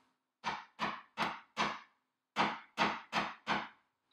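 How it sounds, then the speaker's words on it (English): A hammer flattens the end of copper wire on a steel block: eight sharp metallic strikes, four quick evenly spaced blows, a short pause, then four more, close and clear with no talking. "I'm going to use the flat end of the hammer, and I'm just going to hammer that out into kind of a flat paddle shape"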